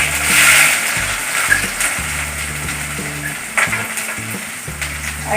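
Ginger added to hot oil after mustard seeds have popped, for a ginger pickle, giving a loud, steady sizzle with scraping stirs and occasional pops, and a few faint background sounds.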